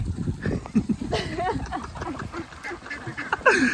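Laying ducks quack repeatedly in a noisy, overlapping chorus close by, with a voice talking faintly underneath.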